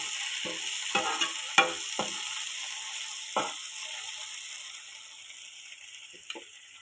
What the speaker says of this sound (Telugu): ఈ టమాటా ముక్కలు కూడా బాగా వేగాలి.